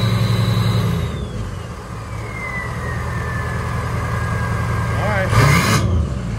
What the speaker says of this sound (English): Oh, there's your high idle.